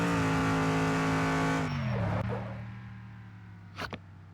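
A race car in the video game Demolition Derby 3 holds a loud, steady engine drone that drops in pitch as it slides into a drift, with a sharp tire squeal near the end.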